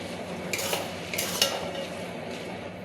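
Soaked, drained rice stirred in a pot, soft gritty scraping with a few brief metallic clinks of a spoon against the pot over a faint background hiss.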